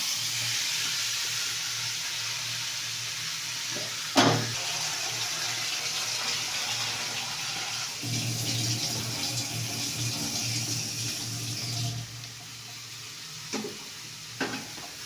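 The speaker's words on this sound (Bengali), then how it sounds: "তো এবার আমি জল দিয়ে দিচ্ছি" Water poured into a pan of cooked-down spices sets off a steady hiss and rush, broken by a few sharp clanks of a utensil against the pan.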